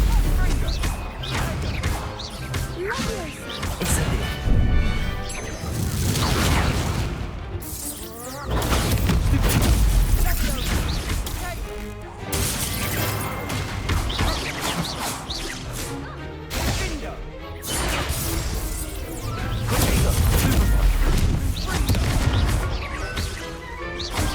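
Repeated Stupefy and Incendio spells in Hogwarts Legacy combat give a fast barrage of whooshes, cracks and crashing impacts, loud and continuous, with some voices mixed in.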